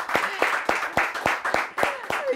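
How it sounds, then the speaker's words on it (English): A small group claps together in an even, repeated rhythm, sharp distinct claps roughly three per second, close and fairly loud, with a few voices faintly underneath. "Clap for yourselves, the She Guards"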